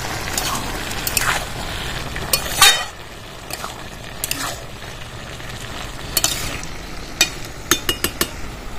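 Turmeric and Kashmiri chilli powder are stirred into bottle gourd in a frying pan, with a soft sizzle beneath repeated scraping strokes and sharp clinks of a spoon against the pan.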